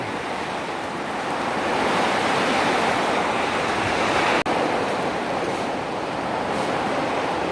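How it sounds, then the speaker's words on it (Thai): Heavy rain pours down in Israel in a dense, continuous hiss and patter, loud and steady throughout, with one brief dropout near the middle. "ฝนตกครับ"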